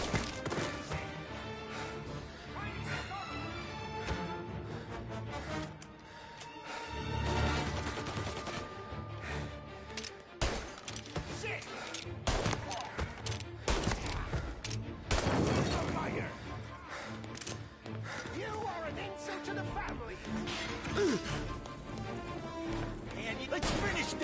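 Gunfire in the Mafia video game, bursts and single shots crackling through a dense, busy mix of music and effects, with a character speaking over the action.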